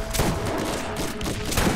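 Rapid gunfire from a disliked gun in Borderlands 1, a dense burst of repeated close shots filling the short moment with no pause.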